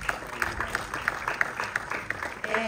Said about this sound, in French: Alors, applaudissez pour ça